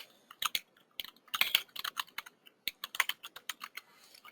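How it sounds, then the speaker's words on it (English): Fingers tap quick, irregular bursts of keystrokes on a computer keyboard, soft and close in a quiet room, with short pauses between clusters. "So if you wanted to type in some help text"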